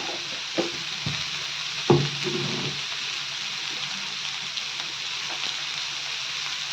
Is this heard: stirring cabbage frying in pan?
yes